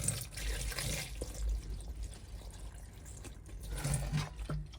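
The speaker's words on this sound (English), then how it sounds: "put some antifreeze in the P-traps just to make sure any water sitting in there is antifreeze as well" Antifreeze pours into a trailer sink P-trap, a steady liquid wash with a few sharper splashes and gurgles near the drain, close and continuous without talking.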